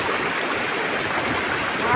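A waterfall's current rushes at a campsite swimming spot, a loud, steady broadband roar of flowing water filling the whole moment without a break.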